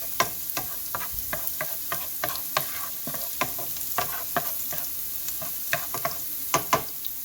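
Sliced beef for beef and broccoli sizzles in a hot pan over medium-high heat, a loud continuous fry broken by frequent sharp clicks and scrapes of stirring, with no talking.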